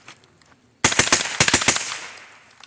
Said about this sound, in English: See if I can bump fire it.